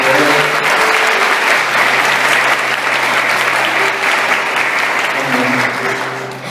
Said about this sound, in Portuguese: Aplaude bem pouco para Deus.